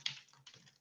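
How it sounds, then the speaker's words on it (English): A few quick keystrokes on a computer keyboard, close and quiet, one sharper click followed by softer taps in under a second. "I'm going to go ahead and just place my cursor, and I'm going to type in"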